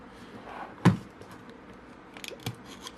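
A safety knife cuts into the packaging of a boxed Canon EF-S 24mm lens, giving one sharp loud snap followed a moment later by a few small close ticks and scrapes in a quiet room.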